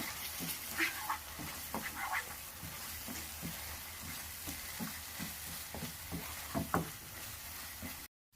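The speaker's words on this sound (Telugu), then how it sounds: "నేను ఒక హాఫ్ టేబుల్ స్పూన్ సాల్ట్ వేసుకుంటున్నాను సాల్ట్ వేసుకొని బాగా మిక్స్ చేసుకోవాలి ఇలా" Mushroom gravy masala with half a tablespoon of salt is stirred in a pan: steady close sizzling with irregular scraping knocks of the spoon throughout and no talk.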